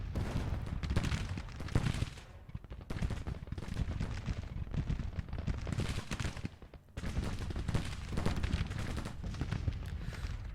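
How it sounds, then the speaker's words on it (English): Civil War battle in the Grand Tactician strategy game: dense, continuous musketry crackle with deep artillery booms rumbling beneath, loud and sustained with brief dips in intensity. "But the artillery is pounding. The musketry is going off."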